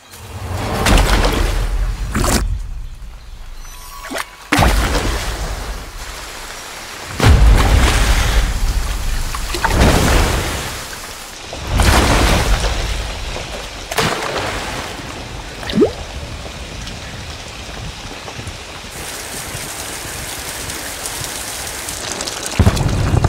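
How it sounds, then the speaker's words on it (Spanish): Heavy tropical rainstorm in a forest, a steady loud downpour with repeated rolls and cracks of thunder, some close and booming, over about twenty seconds with no talking. "Descargando hasta 50 milímetros de lluvia cada hora."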